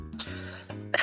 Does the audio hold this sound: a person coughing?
yes